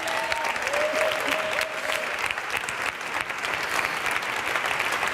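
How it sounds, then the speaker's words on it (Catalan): Steady, dense applause from an audience at a performing arts awards ceremony, clapping continuously and loudly throughout for an actor. "Per favor, fort aplaudiment per a Carles San Jaime."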